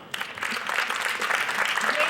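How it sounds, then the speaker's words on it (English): A crowd at a Eurovision 2016 meet-and-greet for the Bulgarian entry breaks into applause that swells and holds steady, with voices mixed faintly into the clapping. "Big round of applause."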